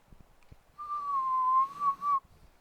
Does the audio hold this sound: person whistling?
yes